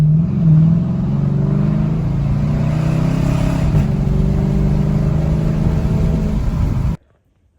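A Dodge Challenger drives after a strut replacement, its engine and road noise a loud, steady hum from inside the car that stops abruptly near the end.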